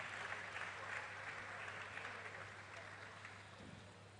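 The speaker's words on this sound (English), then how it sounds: "Please let's give this panel another round of applause." Conference audience applauding a panel at an international financial inclusion event, a steady wash of clapping from a large room that holds evenly throughout and tapers slightly at the end.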